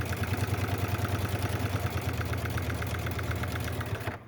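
Sewing machine stitching a Batman-inspired fabric bag, a steady rapid mechanical whir with regular pulsing stitches that stops abruptly at the end.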